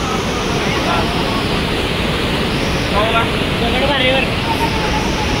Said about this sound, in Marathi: चला धबधबा आहे